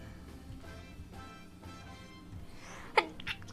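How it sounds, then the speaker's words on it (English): A single sharp sneeze near the end, following quiet background sounds, with a faint sniff afterward. "Runny nose and sneezing, huh?"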